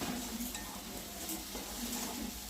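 Ground turmeric, salt, cumin, coriander and chili powder are stirred and fried in a pan on a home stove, a soft continuous sizzle with faint scraping of a spoon against the metal.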